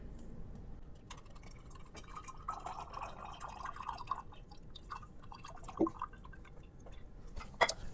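Homemade eggplant syrup drips and trickles as it is strained into a bottle, a faint, intermittent liquid patter with a few soft glassy knocks, no voices.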